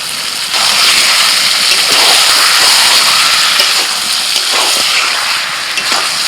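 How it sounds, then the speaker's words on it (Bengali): Fried chicken legs tipped into sizzling onion masala in a pan, the frying rising into a loud, steady, close hiss that holds throughout with faint scraping underneath. "আদা রসুন ভেজে নিয়ে এবার আমি এই ভাজা চিকেনটা দিয়ে দিচ্ছি।"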